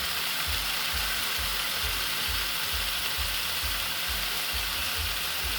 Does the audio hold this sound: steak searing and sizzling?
yes